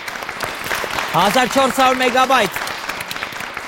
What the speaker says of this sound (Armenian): Վարդան Բադալյանին եկեք ծափարենք